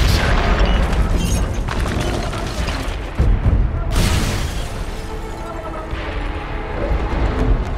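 A thrown grenade explodes in SOCOM 4, a 2011 PS3 military shooter, giving a loud, close boom with a rumbling tail, then a second blast and lingering battle noise.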